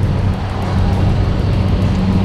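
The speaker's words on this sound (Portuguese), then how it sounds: "Esses carros aí estão vindo todo da balsa, vindo lá de Guarujá" Steady stream of cars driving past near the Santos waterfront, traffic coming off the Guarujá ferry, a continuous loud low rumble of engines and tyres with no clear gaps between vehicles.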